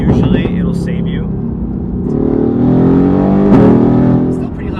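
Mercedes-AMG GT R exhaust while driving, a loud continuous engine roar rising in pitch as it accelerates, with people talking over it inside the car.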